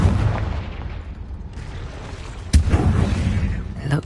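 A Confringo fire-blast spell explodes in Hogwarts Legacy inside a cave, landing as one sharp, loud burst midway over a continuous low rumbling background.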